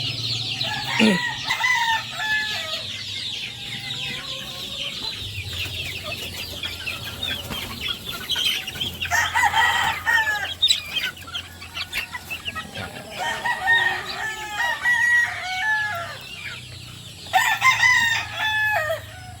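Chickens and roosters at a poultry farm, with repeated crowing and steady clucking throughout, several birds both near and far in an outdoor yard.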